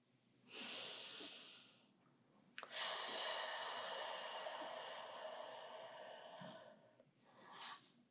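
Slow, deep breathing during yoga Savasana: a long inhale, then a longer airy exhale and another breath, close and soft.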